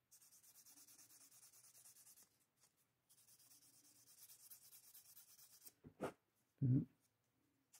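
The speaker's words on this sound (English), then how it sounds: "I'm going to sand this where I kind of tore this up a little bit, and just sand this smooth a little bit." Sandpaper rubbing over a 1:4 scale model, a steady scratchy back-and-forth in two long strokes broken by a pause, faint and close, followed by a couple of brief knocks.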